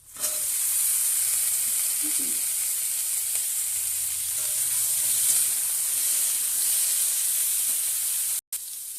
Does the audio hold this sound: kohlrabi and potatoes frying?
yes